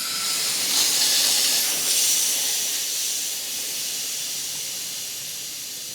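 Cleaner fluid sprays into the diesel particulate filter of a Jaguar XF, a steady loud hiss that swells in the first two seconds and then eases slightly while continuing to the end, with no voices.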